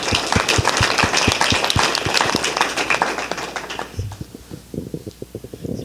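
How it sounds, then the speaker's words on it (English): Audience in a presentation room giving a round of applause for a speaker, steady dense clapping that fades into a few scattered claps. "So let's give her a round of applause."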